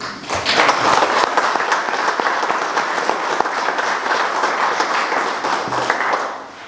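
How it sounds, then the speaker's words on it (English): A crowd at a Kawasaki award presentation applauds loudly and steadily for several seconds, dense clapping that holds even and then fades slightly at the end. "another huge big round of applause."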